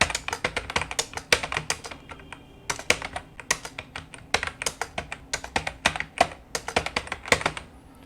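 Rapid, irregular keystrokes on a computer keyboard while typing words into an MS Word document, heard close and alone with short pauses between bursts.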